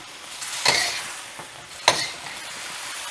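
Shrimp and mixed vegetables stir-frying in a spicy brown sauce in a pan, a steady close sizzle with two sharp stirring scrapes, no voices.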